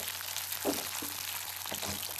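Sliced onion and green peas frying in a pan for Pune-style kanda poha, giving a steady soft sizzle with faint stirring scrapes throughout, no voices.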